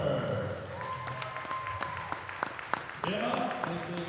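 Applause and cheering from a crowd at a high school basketball game, honouring a cheerleading senior; steady mid-level clapping under an announcer's voice, with a brief swell near the end.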